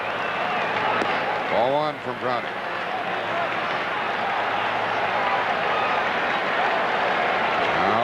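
Crowd applauding at a baseball stadium during the 1990 NLCS Game 2 between the Pirates and Reds, a steady roar of cheering and clapping under a broadcaster's voice throughout.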